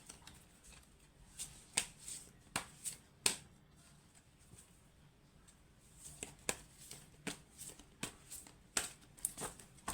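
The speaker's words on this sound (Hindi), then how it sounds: "चलिए ये लास्ट शफलिंग होगी गाइस, फिर हम देखेंगे क्या कार्ड्स आए हैं" Tarot cards are shuffled by hand in repeated bursts of crisp riffling and snapping, close and quiet, with a pause in the middle before a second run of shuffles.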